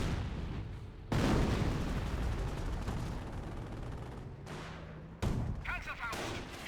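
Explosions and shell impacts from StuH assault gun artillery in the Company of Heroes 1 strategy game, heavy booming bursts at about one second and again near five seconds over continuous battle rumble, with a commentator talking throughout.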